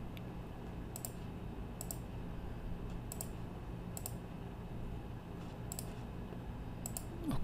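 Faint, sparse mouse clicks on a computer, coming singly and in quick pairs over a steady low background hum, with no talking.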